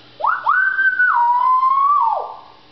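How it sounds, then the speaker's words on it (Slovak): A single long, clear whistled tune by a child with sliding pitch, close and loud, with no talking around it. "To je pískanie"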